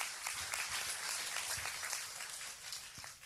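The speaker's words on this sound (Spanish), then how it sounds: "Give him Señor. that strong applause to the Lord." A church congregation applauds during a sermon, a dense, fairly distant wash of clapping that keeps going, then eases off toward the end.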